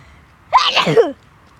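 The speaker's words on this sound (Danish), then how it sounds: "Men jeg vil nys." A single loud sneeze from a child at close range, a sharp burst that ends quickly, with quiet room tone before and after.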